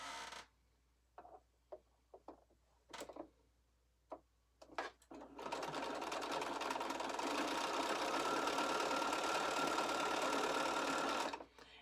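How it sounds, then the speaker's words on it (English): Sewing machine stitching down a quilt seam edge: a few short bursts of stitching and clicks at first, then a long continuous fast whirring run before it stops. "I'm going to stitch down this edge right here"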